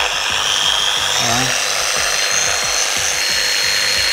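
A Flex XFE 7-12 80 mini polisher turned down to speed 1, around 1800 rpm, giving a steady low whir with rhythmic rubbing pulses against the surface, close and continuous.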